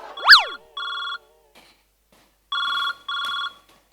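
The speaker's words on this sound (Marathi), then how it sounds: "माझ्या नवऱ्याचा फोन येतोय" A telephone rings with an incoming call, its electronic ringtone sounding in repeated bursts, first with a sweeping chirp and then with steady tonal pulses separated by short pauses.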